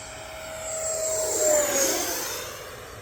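An RC model airplane at full throttle sweeps past in the distance, its high motor whine swelling and then dropping in pitch as it passes, with no talk.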